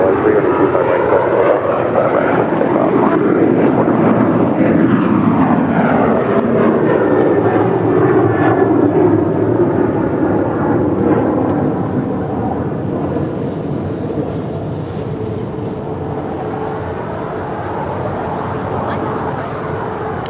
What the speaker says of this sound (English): Alaska Airlines Flight 196 heading to Dallas, Texas. It's a 737-900ER. Now we're ready to roll it down.